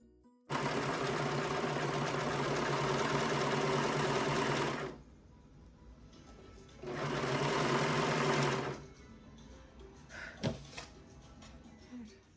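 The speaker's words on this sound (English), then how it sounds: "We can just start serging." A serger stitches jeans fabric during alterations, with its cutter tucked away, buzzing rapidly in two loud, steady runs separated by a quiet gap, followed by a few light handling clicks.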